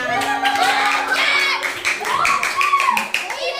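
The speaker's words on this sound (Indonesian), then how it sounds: "Tepuk tangan." Schoolchildren in a classroom clap their hands in a steady burst of close, brisk claps, with children's voices chattering over it throughout.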